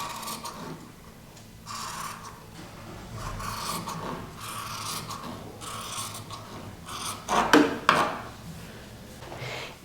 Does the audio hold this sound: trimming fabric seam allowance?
yes